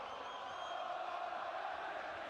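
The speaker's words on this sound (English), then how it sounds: "We weren't sure if the crowd was going to be loud," Boxing arena crowd at a heavyweight bout roaring steadily, a dense, even wash of distant cheering and shouting with no individual voices standing out, heard fairly faintly throughout.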